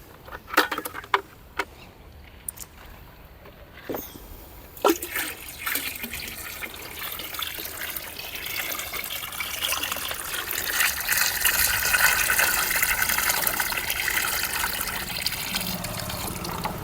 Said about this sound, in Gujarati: આ પાણીના બેરલની અંદર આપણે આ જે પેકેટ ઓગાળ્યું એ પેકેટ ઓગાળી અને પહેલાં પાણીના બેરલમાં નાખી દેવાનું છે.